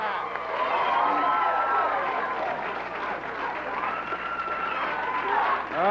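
A USWA wrestling arena crowd from a 1991 broadcast roars and cheers steadily throughout, a dense wash of many voices with shouting rising above it.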